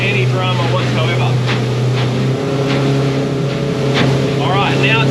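A motorboat fitted with a Solas four-blade propeller holds a steady engine drone at speed, with water rush and wind over the microphone and a shift in engine tone partway through.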